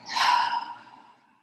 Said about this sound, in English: One more inhale. Exhale. And last one, inhale. Exhale.